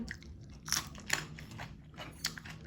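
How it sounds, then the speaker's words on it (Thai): Someone bites into a fresh chili pepper while eating a Thai jackfruit soup. Close, quiet crunchy bites and chewing repeat in an uneven rhythm, with no talk. "กัดพริกไป"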